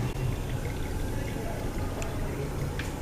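Automatic transmission oil drains from a car in a soft, continuous trickling pour that stays steady and fairly quiet throughout, heard close up on its own.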